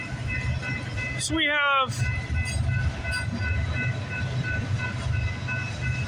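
A CN freight train rumbles past on railway tracks with a steady, heavy low roar and a brief wailing horn blast early on, while a person talks briefly over it.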